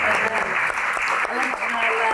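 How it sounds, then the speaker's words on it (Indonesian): Audience at a Q&A event applauding a guest as she arrives, a dense, continuous clapping that holds steady throughout, with some voices mixed in. "tepuk tangan sekali lagi yang paling meriah teman-teman"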